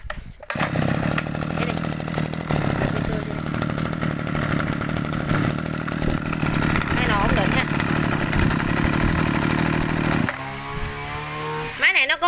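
A Robin small engine on a used Japanese chainsaw or brush cutter is pull-started and runs with a loud, steady buzzing idle, then cuts off near the end, with someone talking over it.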